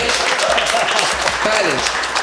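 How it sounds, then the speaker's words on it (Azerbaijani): A studio audience at an Azerbaijani comedy show breaks into dense, steady clapping that fills the whole stretch at an even loudness, with a few voices mixed into the applause. "Alqışlayın müəllimi."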